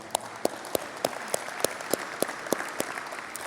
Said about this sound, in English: Would you all please give yourself a round of applause?